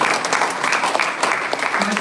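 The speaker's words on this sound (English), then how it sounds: "Huge round of applause for them." An audience at a university event gives a brief round of applause, close and dense clapping sustained for about two seconds.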